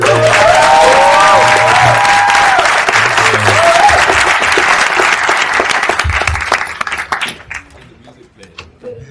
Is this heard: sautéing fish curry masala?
no